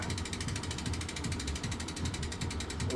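A torque wrench ratchets on Kona bike crank arms, making a fast, even run of close mechanical clicks that goes on without a break and has no voices over it.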